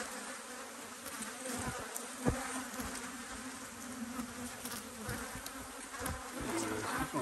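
Honey bees swarm over a beehive frame heavy with nectar at an apiary, their close, dense buzzing a continuous hum with occasional louder passes near the hive.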